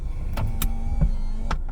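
A Mazda MX-5 RF's power retractable roof runs with a steady electric motor whine, punctuated by several sharp mechanical clicks and clunks as panels move and latch, close up.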